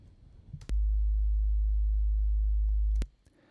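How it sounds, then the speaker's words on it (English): A synthesized sine wave bass tone for an electronic track plays alone as one steady, very low sustained note lasting a couple of seconds, with clicks at its start and end and near silence around it. "I started with a sine wave."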